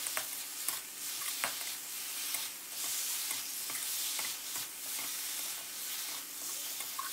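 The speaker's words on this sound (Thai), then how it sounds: "ผัดคลุกเคล้าให้เข้ากันนะครับผัดให้ใบโหระพาของเราสุกสดนะครับ" Fried mackerel and holy basil leaves stir-fried in sauce in a pan, giving a steady sizzle with scattered scraping clicks of the spatula, moderately loud and close, no voices.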